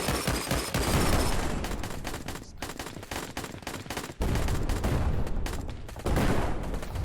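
Dense gunfire and explosions from the early-access VR battle game Plastic Battlegrounds, rapid bursts of shots and booming blasts piling up continuously, loud and close with several sharp surges.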